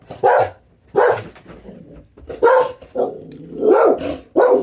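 A dog barks loudly and close by in about five sharp bursts spread across a few seconds, with brief gaps of quiet between the barks.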